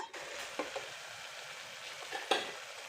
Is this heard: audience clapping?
no